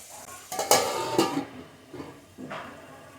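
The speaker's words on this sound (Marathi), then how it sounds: "आता याला मी थोडं दोन ते तीन मिनटं व्यवस्थित परतून घेईल" Vegetables for a vegetable pulao are sautéed in a pot, with a few loud spoon scrapes and clanks against the metal over a light sizzle, in separate bursts; no one talks.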